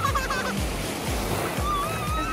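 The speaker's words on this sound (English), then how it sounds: "Is the ocean too big for you?" Ocean waves wash onto a beach in a continuous broad roar of surf, heard up close, with faint higher tones drifting over the top.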